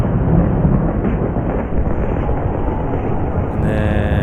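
A lightning spell in the video game Dark Envoy unleashes a heavy rolling thunder rumble, loud and continuous, with a brighter crackling layer entering near the end.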